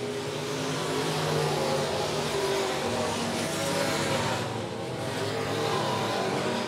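Midwest Modified race cars lapping Monett Motor Speedway, a continuous loud engine roar from a pack at racing speed that swells and dips slightly, with no voices.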